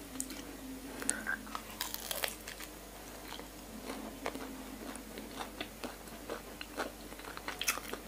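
Crispy fried Italian-style dumplings are crunched while eating, close-up bites and chewing crackles coming in irregular bursts with no talking.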